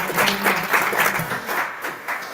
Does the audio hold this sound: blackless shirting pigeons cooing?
no